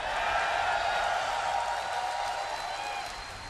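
Sustained crowd roar of cheering and applause at BlizzCon 2011 during a StarCraft match presentation, loud and dense throughout, easing slightly toward the end.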